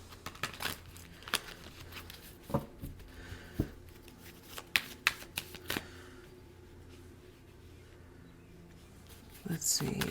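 Animal spirit oracle cards are shuffled and handled by hand, giving a run of scattered soft flicks and taps, close and fairly quiet, with a livelier burst of shuffling at the end.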